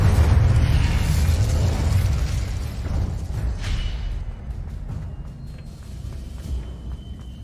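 A burst of magical fire from the Incendio spell in Hogwarts Legacy, a loud whooshing blast that slowly fades into a lingering crackle and rumble, with no voices.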